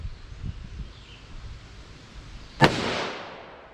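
A single sharp, loud gunshot from a revolver firing a Buffalo Bore heavy Magnum round cracks once near the end, then a brief echoing decay follows over quiet outdoor background.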